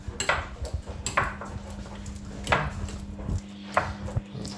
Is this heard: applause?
no